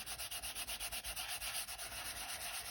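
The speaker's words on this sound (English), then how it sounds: "Sometimes it pays just to have a little piece of sandpaper." A small piece of sandpaper rubs back and forth in quick, even strokes, a dense rhythmic scratching heard close up with no voices.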